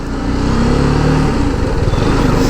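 A Yamaha FZS v3 motorcycle engine roars loudly past at close range, a steady low rumbling drone with a slight rise and fall in pitch as it rides by, with no voices.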